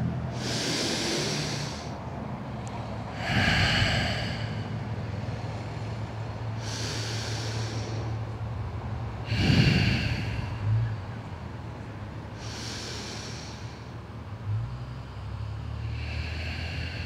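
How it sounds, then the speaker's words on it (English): Three deep, slow breaths drawn in and pushed out close to the microphone, each a rushing, breathy swell spaced a few seconds apart over steady wind and background noise. "3 breaths."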